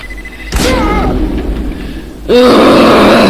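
Bombs detonate in the physics game Happy Wheels, with two loud booming blasts about two seconds apart, each mixed with groaning, grunting cries from the game character.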